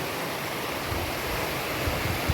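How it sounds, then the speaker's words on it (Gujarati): A stream flows over rocks at Vijay Sagar Dam near Mandvi in Kutch, a constant rushing wash of water mixed with some wind buffeting, steady and fairly close with no talk. "ઝરણું સરસ અહીંયાથી વહી રહ્યું છે"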